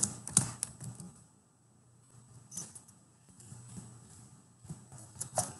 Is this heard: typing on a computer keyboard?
yes